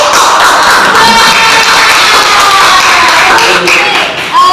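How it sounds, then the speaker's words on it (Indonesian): Students in a classroom clapping together after group presentations, close, loud, brisk applause with some voices mixed in, fading near the end. "Tepuk tangan dulu"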